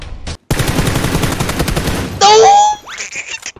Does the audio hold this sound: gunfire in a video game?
yes